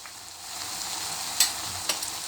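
Chili powder and turmeric stirred into a frying pan while making dried fish thokku, with a steady soft sizzle of frying and a couple of brief scraping stir clicks, close and alone.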